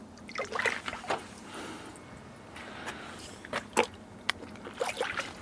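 Touchless foam cannon wash solution, a water mix, splashes and dribbles in short irregular bursts, with intermittent sloshing and light knocks. It stays fairly close and mostly quiet.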